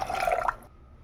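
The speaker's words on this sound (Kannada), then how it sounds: "ಈಗ ಇದಕ್ಕೆ 3 ಕಪ್ಪು ನೀರು ಸೇರಿಸ್ಕೊಳ್ತಾ ಇದ್ದೀನಿ." Three cups of water pour into a pressure cooker holding dal, a short close splashing trickle lasting about half a second before cutting off into quiet.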